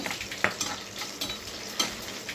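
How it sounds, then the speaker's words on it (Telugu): Green chillies tossed into heated oil give a steady close sizzle and frying crackle, with a couple of sharp utensil taps or stirs breaking through; no one talks. "అయితే ఆయిల్ హీట్ అయిందండి. ముందుగా పచ్చిమిర్చి వేస్తున్నాను."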